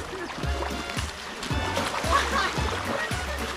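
Repeated footsteps splash through shallow water on a day trip in Nakhon Nayok, about five distinct splashes in a steady walking rhythm, close and moderately loud, with voices chatting in the background.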